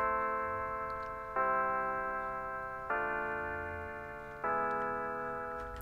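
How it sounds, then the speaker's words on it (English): A sustained synth pad from the Alchemy instrument in Logic Pro plays a chord progression of four evenly spaced chords, each striking with a soft attack and slowly fading before the next, bright and harmonic with no voices. "I just made a little chord progression here."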